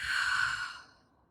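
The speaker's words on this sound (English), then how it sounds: "just take a deep breath in and out" A person takes one slow, deep breath. A soft, close exhale fades out gently over about a second, with no other sound.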